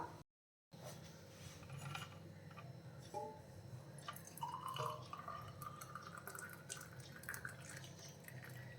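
Dry ginger and coriander coffee being strained, with faint, close drips and trickles of liquid over a quiet steady hiss, and a brief clink of metal or glass partway through.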